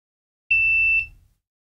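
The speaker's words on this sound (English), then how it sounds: "We now actually have the light lighting up as well as the buzzer." A Raspberry Pi buzzer gives a single short electronic beep, a steady high pure tone lasting about half a second with a brief low hum, alone in silence.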